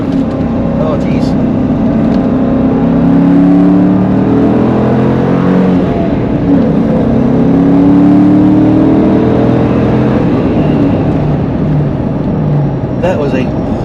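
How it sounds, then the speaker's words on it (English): A Corvette's engine droning and rising in pitch as it revs through a downshift, loud and steady from inside the car, with someone talking over it. "That was a horrible downshift."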